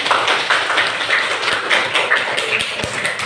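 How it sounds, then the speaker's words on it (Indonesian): A classroom of students claps together, a steady patter of sharp hand claps at a fairly even rhythm, close and clear, with no talking over it. "Silakan tepuk tangan untuk kita semuanya."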